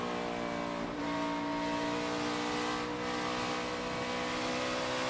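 NASCAR Cup Series stock car at Dover, engine note rising and falling steadily as the driver waits on the throttle, loud and continuous with harmonic drone throughout and no talk.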